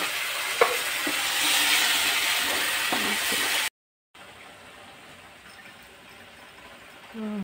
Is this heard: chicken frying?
yes